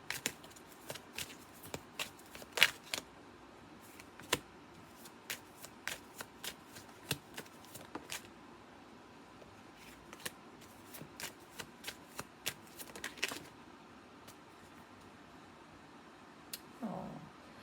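Tarot cards are shuffled by hand at close range, with repeated quick riffling snaps and soft slaps in uneven bursts across the whole stretch and no speech over them.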